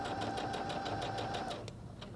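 A Singer HD6805C sewing machine stitches steadily, its needle pulsing in a fast even rhythm with a motor hum, then slowing and stopping near the end; loud and close, no talk.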